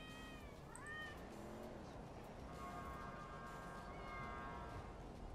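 Cat meowing in the video game GTA 5, several drawn-out wavering meows over a dense, loud background of game noise, moderately close.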